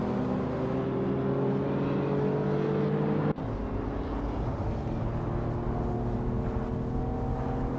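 A 1986 BMW M3 E30 race car drives in a race, its engine holding a steady tonal drone that shifts abruptly partway through before settling into a similar pitch.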